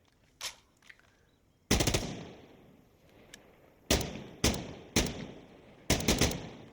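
Full-auto gunfire in the video game Insurgency Sandstorm, a few faint early shots followed by several sharp, loud bursts separated by short pauses, no voices.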